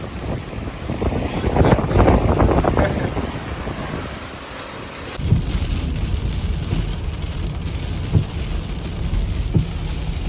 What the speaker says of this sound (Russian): Ух, какой ветер.